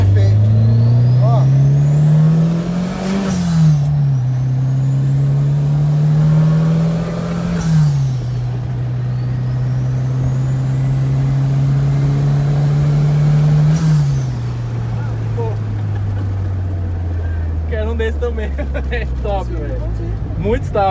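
Chevette AP turbo street car engine with original VW oil pump revving repeatedly, each rev climbing then dropping with a sharp turbo whistle and blow-off hiss, loud and close over a steady idle; someone talks over it.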